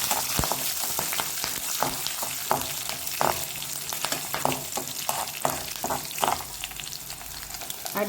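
Curry leaves frying in hot oil in a pan, a steady close crackling sizzle with repeated sharp pops and spatters throughout, no voices.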